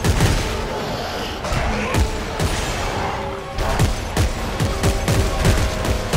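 Close gunfire in Dead Space 3, a series of sharp, loud shots and blasts spaced irregularly, with a brief lull midway.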